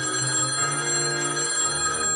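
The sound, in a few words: telephone ringing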